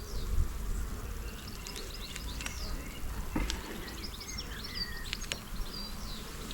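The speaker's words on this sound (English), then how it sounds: "There's a little bunch of bees just at the bottom, and the rough kind of pieces of comb that we left them." Honey bees from a hive kept in a bin, opened for inspection, give a steady low buzz at close range, with a few bird calls faint in the background.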